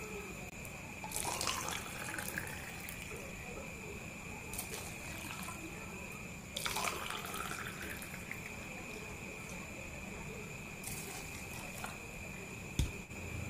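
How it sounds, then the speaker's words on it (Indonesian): Water is poured into several drink cups in short separate streams, a soft trickling splash over a faint steady hum, with a small tap near the end. "untuk masing-masing cup sudah saya isi dengan air 100 ml ya"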